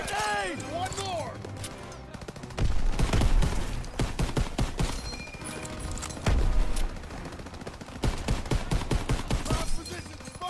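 Bursts of rapid rifle and machine-gun fire in a Call of Duty WWII battle, loud and close, with sharp cracks in clusters amid shouting voices.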